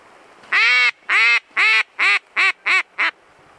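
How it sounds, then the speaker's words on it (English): Seven loud, nasal quacks in a quick, slightly accelerating series, close by and clear against faint background hiss. "Those ducks."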